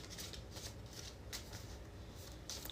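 A tarot card deck gets a bridge shuffle, quiet repeated papery riffles and soft slaps in a quick, uneven rhythm, close and alone with no talking.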